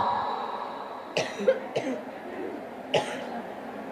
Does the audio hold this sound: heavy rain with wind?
no